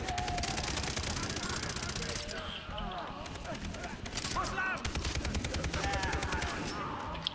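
Rapid machine-gun fire and scattered shots in the video game Far Cry 3, continuous and loud, with people talking over the fighting.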